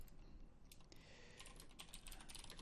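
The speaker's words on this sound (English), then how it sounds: "You're going to hear me typing" Rapid typing on a computer keyboard, a dense run of quiet close clicks and key taps with no pauses or voices.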